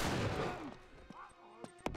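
Gunfire in Uncharted 3: Drake's Deception, one heavy, booming close shot that decays into a few sharper, fainter cracks.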